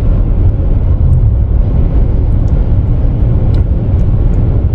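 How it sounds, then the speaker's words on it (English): A truck approaches and passes on the open U.S. Highway 60, heard as a loud, steady low rumble of road and engine noise from inside a moving vehicle, with a few faint ticks. "This oncoming truck here is the last vehicle."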